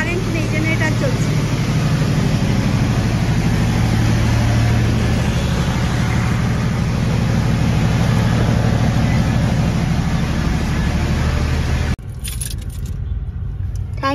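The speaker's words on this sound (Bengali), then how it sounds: "আজকে সকাল থেকে কারেন্ট নেই, জেনারেটর চলছে।" A generator runs during a power cut, a loud continuous low engine drone with steady mechanical hum, and people talk over it throughout.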